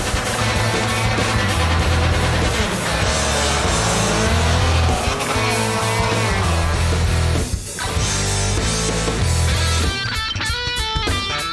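Lamborghini Urus drag racing a ProCharged, cammed 5.7 Hemi R/T, with a loud, sustained engine roar and shifting revs throughout, a brief dip near the end followed by more high-pitched whine.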